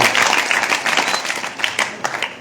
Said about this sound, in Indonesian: tepuk tangan dulu buat Faiz.